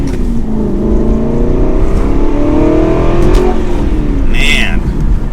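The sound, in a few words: Aston Martin V8 Vantage GT manual accelerating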